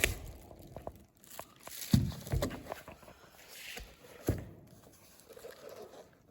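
A plastic bag holding paperwork and small bits and pieces rustles and crinkles in a few brief bursts, close by and fairly quiet, with short pauses between handlings.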